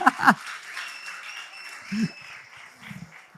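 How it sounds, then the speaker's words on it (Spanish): Brief burst of audience applause at a church talk, a short sharp flurry of claps at the start that quickly fades under someone speaking. "Un aplauso para vosotros."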